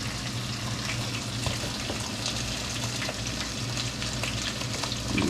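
Garlic sizzles and fries steadily in a skillet while it is stirred, giving a dense, even crackle with soft scraping close by.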